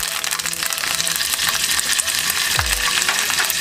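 Cut curry leaves sizzle and crackle loudly in hot oil in a pan while cooking khandavi, a dense continuous frying hiss with a short low scrape near the end.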